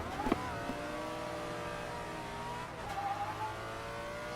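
A car drifting at full throttle without the handbrake, held back with left-foot braking, its engine droning at high steady revs with a brief pitch dip and a faint tyre squeal, no talk over it.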